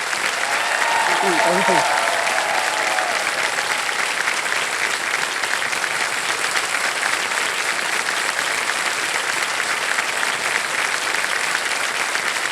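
Studio audience applauding on the KBC quiz show set, a dense, steady wall of clapping that holds at full strength throughout, with a brief voice near the start.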